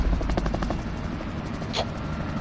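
A helicopter flies in a battle royale video game, its steady rhythmic rotor thumping loud and close, with a brief sharper burst near the end.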